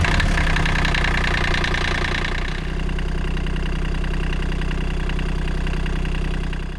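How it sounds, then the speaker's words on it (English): A sailboat's inboard engine idles steadily after starting, a loud, close, continuous mechanical drone with a slight shift in tone partway through and no talking. "going to go up and start the engine"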